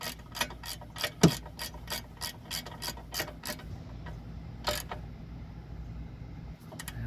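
Quick ratchet clicks from a hand ratchet tightening the spark plug on an Onan MicroQuiet 4000 generator, a steady run of close, crisp ticks that slows and thins out, with a few stray clicks near the end.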